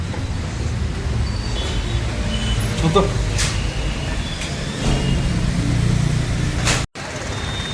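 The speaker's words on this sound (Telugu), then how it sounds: "ట్రాఫిక్ కానీ బాగానే ఉంది గట్టిగా" Night road traffic on a rainy street in Hyderabad: a continuous broadband wash of rain and passing vehicles with engine rumble swelling and fading, and a brief spoken word near the start.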